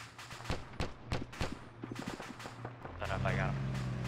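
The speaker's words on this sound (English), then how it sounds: "I'm just gonna fire AP through the window." Armor-piercing rounds fire through a window in a rapid string of sharp, close shots, followed by a steadier rumbling noise with a voice over it.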